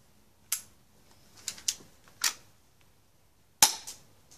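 A metal airsoft pistol fires several sharp, snappy shots close by, spaced irregularly with single cracks and a quick pair, each a dry click-pop over a quiet background.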